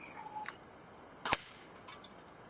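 A single sharp crack of a Benjamin Marauder air rifle firing, close and short, with a faint metallic tick before and a couple of light clicks after in a quiet setting.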